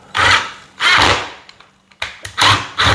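A cordless electric screwdriver drives screws while mounting a rustic pendant ceiling light, with four loud whirring bursts in a stop-start rhythm, close by, separated by small clicks and handling knocks.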